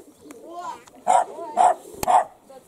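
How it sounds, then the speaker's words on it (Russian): A dog barks three times in quick succession near a pigeon aviary, the loud barks evenly spaced over soft background sounds, with a voice murmuring before them. "Шарик, лает, чтобы я не упал"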